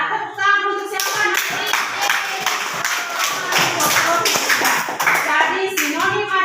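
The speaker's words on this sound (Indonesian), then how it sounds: "tepuk tangan untuk siapa?" Classroom of pupils clapping their hands together in a rhythmic burst, with a teacher's voice speaking at the start and end.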